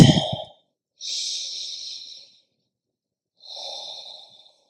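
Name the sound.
breathing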